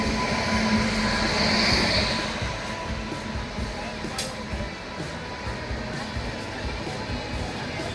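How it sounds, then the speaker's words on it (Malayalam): The Marusagar Express pulls into a station with a continuous, fairly close rumbling roar of wheels and carriages that holds steady throughout. "ട്രെയിൻ എത്തി, നമ്മൾ കയറുവാണ് കേട്ടോ"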